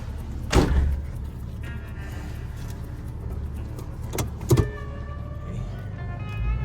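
A Jeep TJ driving, with a steady low engine and road rumble throughout and a couple of sharp clunks or knocks standing out near the start and middle.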